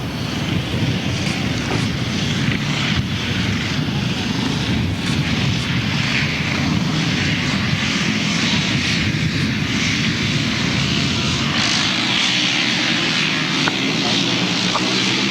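Grasstrack motorcycles at a 1992 GTSA meeting roar off the start line together, a loud sustained engine drone with wind buffeting the microphone and a commentator talking over it throughout.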